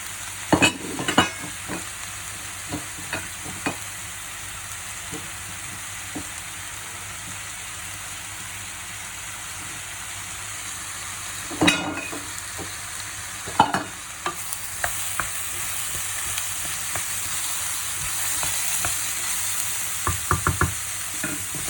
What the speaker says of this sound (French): je mets les courgettes, comme ça il y a tout qui cuit ensemble